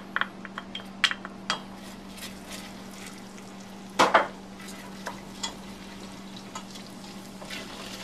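Garlic sautés in melted butter and margarine with a quiet, steady sizzle under a low hum. Sharp clinks and scrapes of a utensil against the pan come intermittently, with a louder clatter midway.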